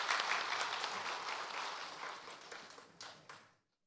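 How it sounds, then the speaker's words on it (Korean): Church congregation during Sunday worship claps to welcome a visitor, a fairly loud burst of applause that gradually thins out, ending with a few last scattered claps before silence. "박수로 한번 환영하겠습니다."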